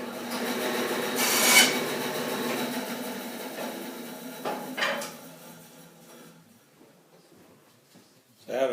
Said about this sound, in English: clamp this down to the bench and sand some end grain